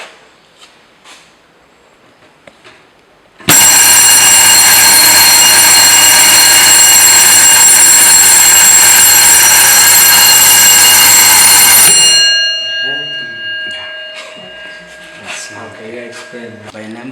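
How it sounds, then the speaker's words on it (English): A student-built electrical door security alarm bell, made at a technical institute and run on a timer, rings loud and steady for about nine seconds with a harsh buzzing tone, then cuts out as a voice begins speaking. "This is an electrical security alarm system, and it works with the timer."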